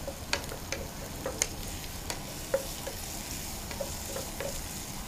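Filling of capsicum, onion and carrot frying and being stirred in a pan, a soft, steady sizzle with scattered light clicks and scrapes from the spoon, fairly quiet and heard alone.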